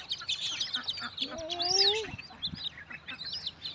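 Ducks gathered in large numbers in Australia call out in a lively run of short squawks and quacks, one louder rising call standing out, over a noisy outdoor background.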